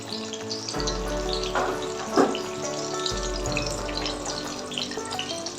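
Dry red chillies, split bay leaves and whole cumin frying in hot oil give a continuous, fairly loud hiss with a faint low hum underneath.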